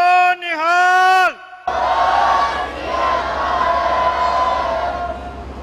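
At a Sikh singing competition grand final, a single voice draws out the Bole So Nihal call. After a brief pause, a large crowd answers with a loud, sustained roaring jaikara shout.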